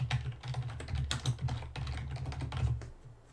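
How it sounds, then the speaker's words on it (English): Fingers typing on a computer keyboard during a PowerPoint session, producing rapid, uneven clicks of keystrokes in bursts with brief pauses, close and clear with no talking. "as soon as I started typing, it created a bulleted list"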